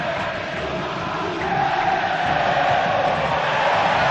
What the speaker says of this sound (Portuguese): Agora a torcida festeja